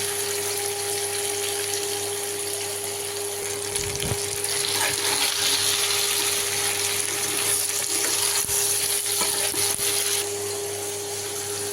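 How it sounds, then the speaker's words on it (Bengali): Oil sizzles and crackles steadily in a pan as amla (Indian gooseberry) fries with salt, with a few clinks of a utensil stirring partway through. "আমলকিটাকে তেলের মধ্যে একটু ভাজা ভাজা করে নেবো"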